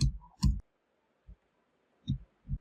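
Typing an email into an HTML input field produces a few sparse, quiet keyboard clicks, isolated taps spaced irregularly over near silence.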